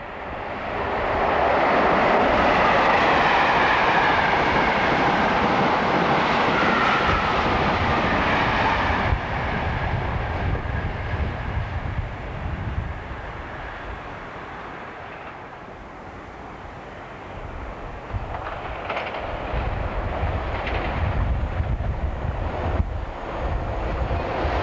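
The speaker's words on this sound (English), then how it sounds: "still sporting its all-over blue BR paint scheme, number 86222 heads a northbound Intercity Express." A blue BR Class 86 electric locomotive hauling a northbound InterCity express on the West Coast Main Line passes with a loud, sustained rumbling roar that fades slightly midway and then swells again with wheel and rail noise.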